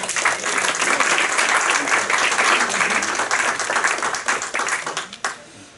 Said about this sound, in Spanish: Es un aplauso a ustedes mismos